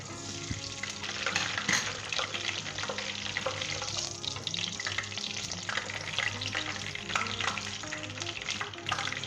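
Mustard oil heating in a pan for a green chilli mutton dish gives a steady, dense sizzle that crackles throughout at moderate loudness, with no voices.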